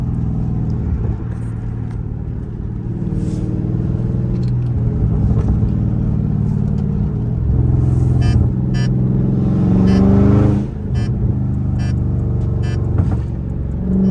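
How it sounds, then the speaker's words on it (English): Dodge Charger Scat Pack V8 rumbling under acceleration, its exhaust crackling and popping in sharp bursts around the middle of the stretch, heard from inside the car on a night drive with no talk. "I know y'all hear them flames."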